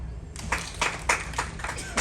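Cruise ship passengers clap together in a run of about six loud, evenly spaced bursts, with faint chatter underneath.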